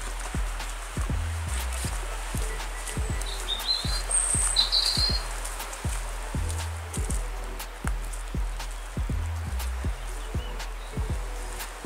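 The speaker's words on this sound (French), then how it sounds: "Les oiseaux chantent." Small birds chirp in quick, high bursts outdoors near the Grotte de la Baume Saint Vérédème, heard faintly behind steady, crunching footsteps on a trail.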